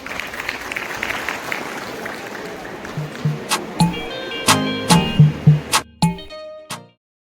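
Audience applause welcoming a guest principal at a college function in Dharamshala, a broad wash of clapping that fades out, overlaid by louder, uneven thumps and knocks toward the end before sudden silence.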